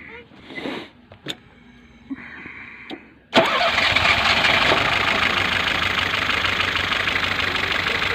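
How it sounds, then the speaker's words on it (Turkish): A Lada Niva engine cranks and catches abruptly, then settles into a loud, steady idle that runs on close by. Quiet talk and a few small knocks come before the start. "Çalıştır bakayım şu aracı."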